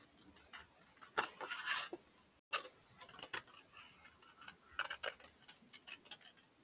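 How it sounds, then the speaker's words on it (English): Soft, close snipping of scissors cutting a random shape out of an index card, a quiet irregular series of small crisp cuts and paper rustles with no talking. "is cut out this shape with scissors."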